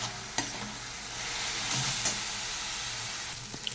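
Spices with chili and turmeric powder stir-fried in a pan, a steady close sizzle and hiss with a few scraping clicks of the utensil.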